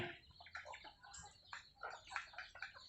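Free-range backyard village chickens kept for eggs make soft, scattered clucks and murmurs, fairly close and at a moderate level, with no talking.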